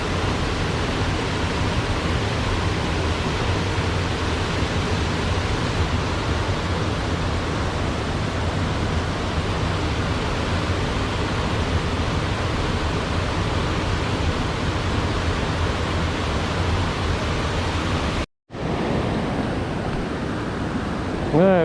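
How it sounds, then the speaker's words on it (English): Water pours over the dam at The Falls in Pineville, Missouri, beside an old power plant, making a loud, continuous, close roar that cuts out briefly near the end. "Water's flowing pretty good today."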